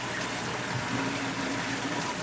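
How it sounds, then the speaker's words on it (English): Running water from a hose pours steadily into a large 1100-gallon plywood aquarium, a continuous close broadband rush with a faint pump-like hum underneath and no talking. "right now I just have my regular water change hose running water directly in to the tank"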